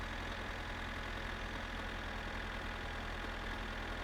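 Cars on a highway in the video game My Summer Car: a steady, moderate engine drone with a low rumble, continuous and somewhat distant, with no talking.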